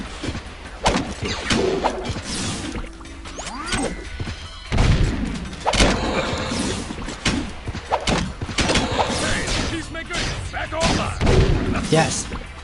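Rapid gunfire and thudding impacts in the Jak II Renegade video game, dense and continuous with heavier booms, mixed with game voices throughout.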